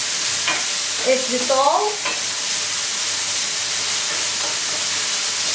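Anchovies and chili cooking in a pan give a steady, close sizzle and hiss that runs the whole way through, with a brief spoken phrase near the start.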